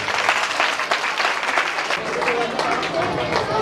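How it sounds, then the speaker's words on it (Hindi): A church congregation at a Christmas celebration bursts into vigorous applause, a dense continuous clapping that stays loud from start to finish, with voices mingling underneath. "जोरदार ताली बजा सकते हैं"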